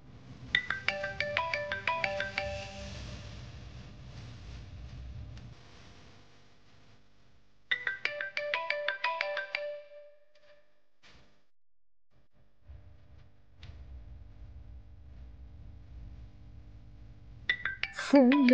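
A mobile phone ringtone rings repeatedly and goes unanswered, two clear melodic bursts separated by a pause, then quieter indoor room tone with brief shuffling from a household scene in a Telugu TV serial.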